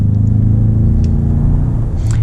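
Ford F-150 Platinum pickup with a 3.5-liter EcoBoost V6 accelerating hard, a loud steady low engine drone with turbo whoosh and whistle rising on top, continuous and close from inside the cab.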